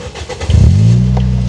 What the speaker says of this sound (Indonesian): untuk menyalakan pun begitu, cukup injak remnya dan tekan di engine start top-nya,